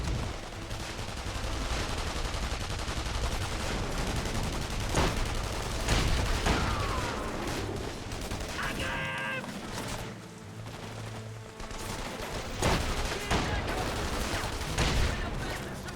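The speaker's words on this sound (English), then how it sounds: "Shooting at me." Gunfire in The Saboteur crackles in repeated bursts and single shots, fairly faint and steady against a busy game backdrop, with no talking over it.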